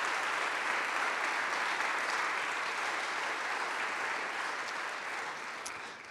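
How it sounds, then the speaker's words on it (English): An audience at a college choir recital claps in a long, even round of applause, steady and moderately distant, tapering off softly near the end. "Let's give them a round of applause."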